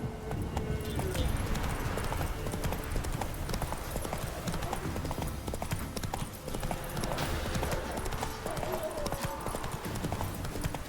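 Rapid, steady hoofbeats of the horse Roach galloping in The Witcher 3 video game, with game music and ambience underneath and someone talking over them.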